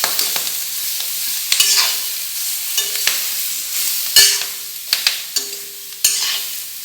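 Tomatoes and tamarind frying in a pan for a chutney give a steady, close sizzle, broken by repeated scraping and tapping of a stirring utensil against the pan, with no voices.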